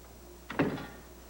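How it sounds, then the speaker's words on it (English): Single brief door sound, a soft click and thud as it opens, close by and alone against a quiet room background. "What took you so long to answer the door?"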